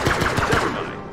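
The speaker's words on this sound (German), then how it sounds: "Kann ich da einfach von hier aus drauf schießen?" Rapid automatic gunfire in the space-survival game Breathedge, a quick burst of about six evenly spaced shots that trails off, loud and close with no talking.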